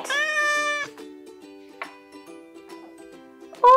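A cat meows loudly and close up with a long drawn-out call, then gives a brief second mew and a sharp final one, over a soft sustained musical backing.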